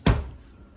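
A kitchen junk drawer bangs shut in a single sharp, close knock that dies away quickly.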